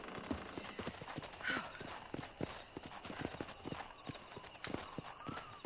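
Horse hooves clip-clop at a steady walking rhythm in the Red Dead Redemption video game, close and clear over a faint outdoor ambience, with a short whinny partway through.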